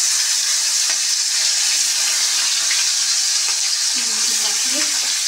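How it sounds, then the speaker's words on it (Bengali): Fish frying in very hot oil in a wok, a loud continuous hiss and crackle up close, with a short murmur of speech near the end. "এই যে কড়াইতে তেলটা একদম গরম হয়ে গেছে"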